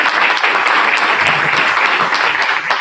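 An audience at an academic congress on Kierkegaard applauds in a loud, continuous wash of clapping that stays steady from start to finish.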